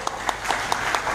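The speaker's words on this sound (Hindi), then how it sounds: "तो ये तालियां आपके लिए होनी चाहिए।" An audience at an IMC gathering in Muzaffarpur gives a brief burst of dense applause, many hands clapping together close by.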